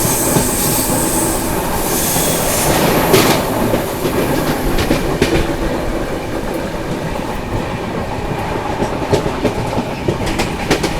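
Inside a 3AC coach of the 12423 Dibrugarh Rajdhani Express, the train rolls on loudly, a constant heavy rumble with rhythmic clickety-clack from the wheels and faint squealing on the rails.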